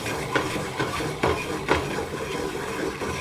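Cold butter swirled into a hot pan sauce, a rhythmic series of soft scraping strokes over a steady low sizzle.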